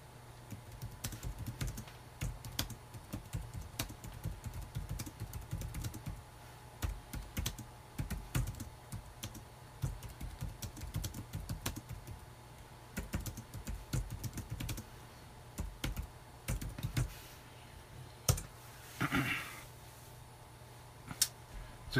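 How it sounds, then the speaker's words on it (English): Quiet, steady typing on a computer keyboard, with irregular bursts of key clicks and a few louder taps near the end. "So I'm just typing to Samuel."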